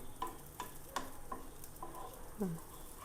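Leftover meat curry reheating in a pan, with soft intermittent sizzling and light taps and scrapes of stirring, quiet and close.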